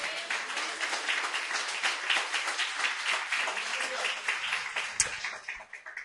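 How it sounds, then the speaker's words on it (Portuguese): Church congregation at a Portuguese-language service applauding in praise, sustained crowd clapping with a roomy, moderately distant sound that thins out toward the end. "você pode aplaudir o Senhor"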